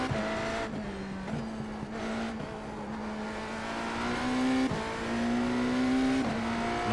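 BMW M Hybrid V8 GTP race car on a circuit, its engine note loud and close, rising and falling through gear changes and revs with brief drops between shifts.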